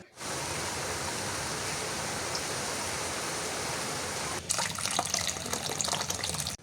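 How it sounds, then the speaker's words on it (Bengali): Steady rush of running water from a tap, continuous and fairly close, with a brief shift around the end as dried shrimp are rinsed under the stream. "এটাকে ভালো মতো একটু ওয়াশ করে নিচ্ছি"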